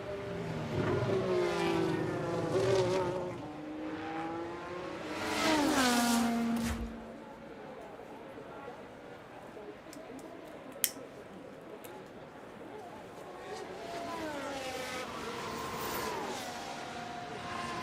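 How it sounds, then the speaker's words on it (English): Porsche race car in F1 Manager 24 at Interlagos sweeps past in two loud surges with falling engine pitch, the first around one to seven seconds and another building near the end, over steady ambient track noise. "Porsche coming through."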